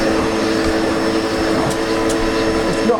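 A SEBO Automatic X7 Boost ePower upright vacuum cleaner runs steadily throughout, a close, loud motor whine with a constant tonal hum and no pauses.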